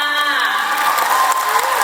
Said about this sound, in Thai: ปรบมือให้ด้วยหน่อยค่ะ